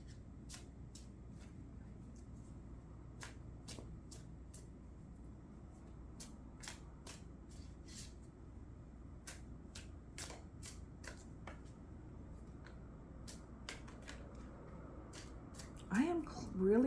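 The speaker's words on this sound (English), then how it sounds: "My apologies for my lengthy shuffling." Tarot cards shuffled by hand in a quiet room, a long series of faint, crisp riffle snaps and flicks at irregular intervals, close by.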